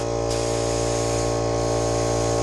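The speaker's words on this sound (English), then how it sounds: "So we don't want it while it's spraying to be over 40 psi." A paint spray gun runs continuously at about 35 to 40 psi, giving a loud, even hiss over a low mechanical hum, close up and unbroken.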